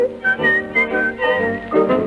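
Melodic whistling from a swingy 1930s-style tribute song, a bright tune with short sustained notes in a bouncy rhythm, loud and alone.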